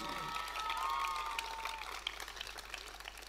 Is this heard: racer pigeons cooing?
no